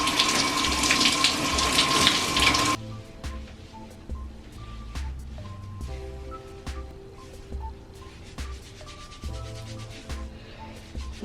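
Tap water runs and splashes as natural hair is rinsed out, a steady wash of water at first, then quieter dripping, rubbing and knocking sounds in a sink.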